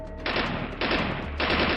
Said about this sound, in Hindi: ये देखकर उसने अपनी गन उन तीनों पर तान कर गोली चला दी